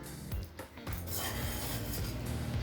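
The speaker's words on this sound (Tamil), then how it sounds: "இப்போ மெதுவாக கிளறிக்கலாங்க." A spoon scrapes and clatters against a pot while thattai payaru (cowpea) biryani with fresh mint and coriander is slowly stirred; the rubbing is close, continuous and steady for a few seconds with no talking.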